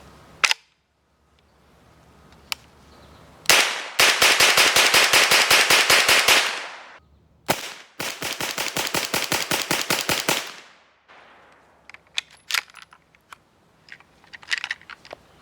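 An HK UMP chambered in 9mm with a 9mm barrel and bolt empties a 30-round magazine in two loud, rapid full-auto bursts separated by a short gap, followed by scattered mechanical clicks and handling noises.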